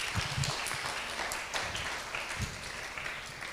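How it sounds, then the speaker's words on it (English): Faint, distant applause from a panel audience after introducing a speaker at an AI discussion, a soft wash of scattered claps with a few low thumps, quiet throughout. "So big applause for Philip."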